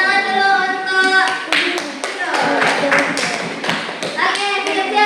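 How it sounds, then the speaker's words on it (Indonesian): Hand clapping in a classroom during a teaching practice lesson, a group of pupils clapping in quick, uneven bursts close by, with children's voices mixed in. "Tepuk tangan dulu untuk"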